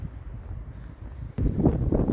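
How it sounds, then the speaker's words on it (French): Wind blowing outdoors around a large disused site in Corsica, a low rushing rumble against the microphone that swells into a stronger gust near the end. "Il y a du vent"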